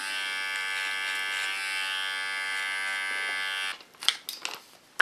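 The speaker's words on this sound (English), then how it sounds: "This I take off with my clipper again." Electric hair clipper buzzing steadily close up while trimming hair above the ear, then cutting off into brief snips and rustles.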